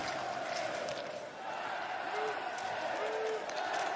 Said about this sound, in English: Crowd making plenty of noise in the Hallenstadion now